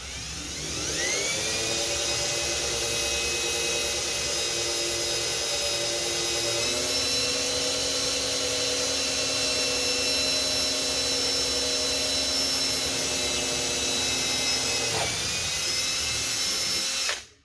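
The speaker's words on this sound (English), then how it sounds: "Again, I'm letting the drill do the work. I'm not jerking it through." Power drill with a bushing finishing a hole in an acrylic instrument panel for a Cessna 140, a high steady whine running continuously, shifting pitch slightly under load, then spinning down at the end.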